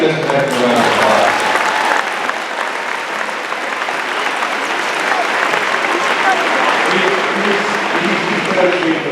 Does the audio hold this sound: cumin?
no